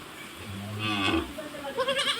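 A five-month-old calf of a racing bull breed gives a single low, drawn-out moo up close, followed by faint rustling in a cattle shed.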